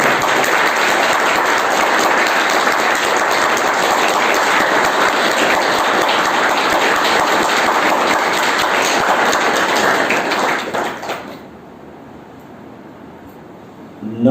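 Loud, dense applause from a large audience at a spiritual meditation gathering, continuous clapping for about eleven seconds before fading out, leaving near quiet.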